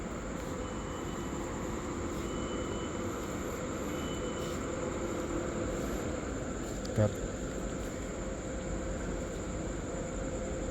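A steady low rumble of a passing train, Thai train 141 on the northeastern line, with faint metallic ringing and a chirping insect-like tone, plus one brief knock partway through.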